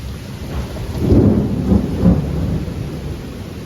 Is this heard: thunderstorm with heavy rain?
yes